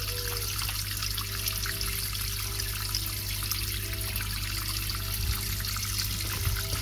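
Fresh water pours and trickles steadily into a container, a continuous close splashing wash with a faint low hum underneath and no talking.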